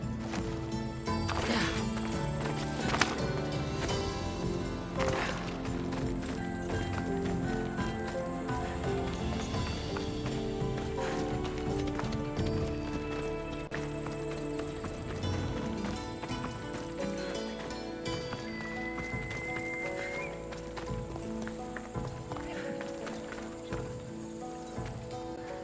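A horse gallops with steady, rapid hoofbeats in Assassin's Creed Odyssey, set against busy game ambience and scattered city sounds throughout.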